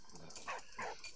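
Dog barking in the video game Valiant Hearts, three short quiet yips spaced through a brief moment over faint background hum.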